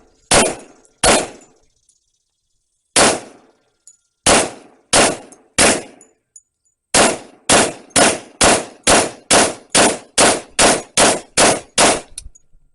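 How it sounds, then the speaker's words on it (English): A Rock10 rifle fires a long series of sharp, loud gunshots, with a few spaced shots at first and then a rapid, steady string of evenly paced blasts near the end. "I'm gonna load up again and do some more shots."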